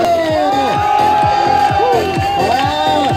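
A K-pop show audience cheers, whoops and shouts together in a loud, continuous crowd roar, with high-pitched voices rising and falling throughout.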